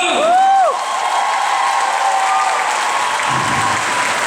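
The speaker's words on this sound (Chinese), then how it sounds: "给我的兄弟姐妹最大的掌声吧" Audience applause at an Amis music festival in Dulan, a loud burst of crowd clapping and cheering that carries on steadily under a sustained musical tone.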